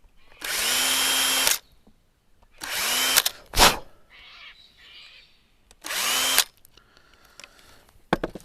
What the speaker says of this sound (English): I've got a countersink bit here I use for cleaning out the burrs in the end of the line